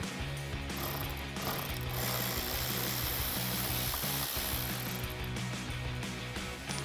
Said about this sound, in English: I'm using the short extension with my 7 millimeter socket